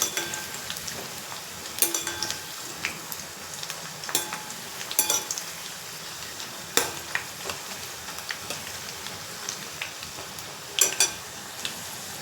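Burfi pieces frying in oil until browned, a dense crackling sizzle punctuated by sharp spatters and pops at irregular intervals, no one speaking.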